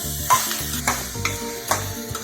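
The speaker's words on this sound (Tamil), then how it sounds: "வெங்காயம் தக்காளி நல்லா வதக்குங்க" Onion and tomato with garlic, ginger and dried red chilies sautéing in a pan for a coconut-free chutney, a close sizzle broken by several sharp spatula scrapes and stirs, no voices.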